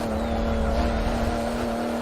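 A Porsche 911 GT2 RS in Forza Motorsport drones at steady high revs under throttle up a hill at Road Atlanta, a loud continuous engine tone with no talk.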